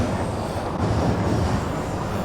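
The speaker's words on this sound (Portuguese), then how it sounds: "E olha o trem passando. A gente pegou bem a hora do trem." A train passes by as a steady, loud low rumble and rolling roar, continuous throughout with no talk.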